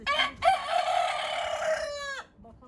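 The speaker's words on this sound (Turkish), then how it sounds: "Horozlar, tavuklar, şunlar bağırıp duruyorlar." A rooster crows loudly and close by in one long, drawn-out call in a city garden, with a few hens clucking softly before and after it.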